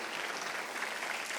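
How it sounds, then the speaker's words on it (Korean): A church congregation applauds during a Sunday worship service, with steady, dense clapping that fills the room at an even level for the full stretch and no voices heard. "박수를 치며 하나님께 영광을 드리세요."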